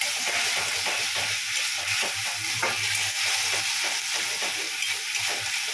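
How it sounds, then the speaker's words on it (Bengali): Ginger and green chilli paste with a splash of water stirred in a hot pan, a continuous bright sizzle with rhythmic low scraping strokes from the spoon, close and steady, with no talking. "এই আদা কাঁচা লঙ্কা বাটাটা একটু নাড়াড়ি করবো, একটু নাড়াড়ি করতে থাকবো"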